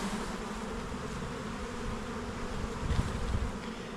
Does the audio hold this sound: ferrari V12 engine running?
no